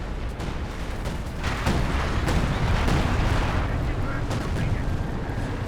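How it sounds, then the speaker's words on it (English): Artillery barrage in the World War II strategy game Company of Heroes 2, a dense rumble of repeated explosions and battlefield gunfire that stays loud throughout, with a voice talking over it. "Arty Barrage coming down on that MG, protecting the bottom"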